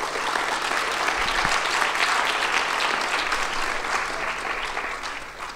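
An audience applauds four speakers at an economics event, a sustained, fairly soft crowd clapping that tapers off slightly at the end.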